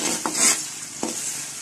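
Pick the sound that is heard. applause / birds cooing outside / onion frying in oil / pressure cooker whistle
onion frying in oil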